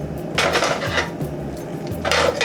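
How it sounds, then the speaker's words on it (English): Golden-brown chicken pieces are lifted out of a skillet of butter, heard as a few close metallic scrapes and clinks of a utensil against the pan over a low background hum, without speech. "I'm gonna just remove it out of the skillet"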